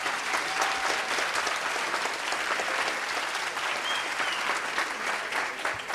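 Audience applauding the jury at a 2017 student eloquence contest between two Toulouse schools, a dense, steady roar of clapping that fills the room for the full six seconds without pause.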